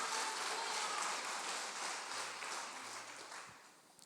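A church congregation claps together in dense, rain-like applause that holds steady and then slowly fades, heard from a distance at low volume.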